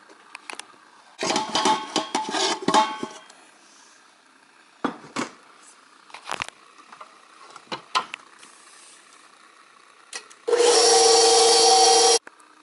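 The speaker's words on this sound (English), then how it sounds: "So I'm going to whisk all that together" Dry brownie ingredients whisked in a bowl, heard as several bursts of scraping, rubbing strokes separated by pauses and soft clinks, followed by a loud steady roar of an electric mixer near the end.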